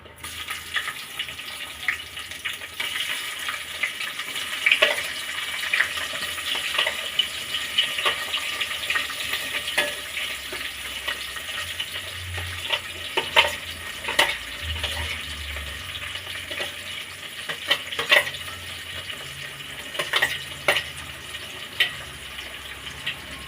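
Onions fry in a pan with whole garam masala, a steady sizzling hiss with occasional clicks and scrapes of stirring, close and moderately loud throughout.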